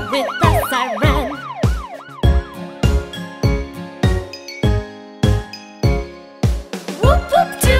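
A wailing siren sweeps up and down at the start, then bright chiming tones ring in plucked, rhythmic bursts, playing alone without voices.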